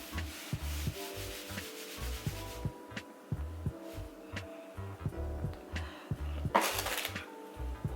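Soft rhythmic footsteps in Balenciaga slides scuff and slap on a hard floor, a steady repeated shuffle with a low hum underneath.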